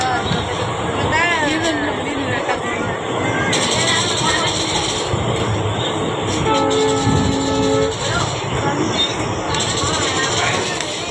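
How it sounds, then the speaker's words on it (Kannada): A passenger train runs along the rails on a long overnight journey, its steady rumbling and rattling continuous and close throughout, with a horn-like tone sounding partway through and people talking over it. "Train journey ಸುಖಕರವಾಗಿ ಹೊಂಟೈತಿ."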